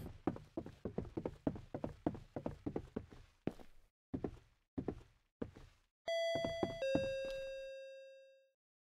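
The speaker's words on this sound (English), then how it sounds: "I'm just gonna ring that doorbell" A doorbell chimes twice, bright and ringing, in the horror game Akai Onna after a run of quick footsteps and thuds. The second tone lingers and fades slowly.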